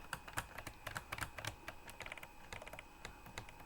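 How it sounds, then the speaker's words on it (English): Computer keyboard keys clack in rapid, uneven bursts while a racing game is played on a PC, close and fairly quiet with no talking. "My keys are requiring quite a lot of pressing to get it to the car to move."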